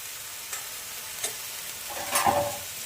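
Mustard paste, green chilli and turmeric being stirred and fried in a pan for a fish curry, a low steady sizzle broken by a few scraping stirs, with a louder burst of frying and scraping toward the end.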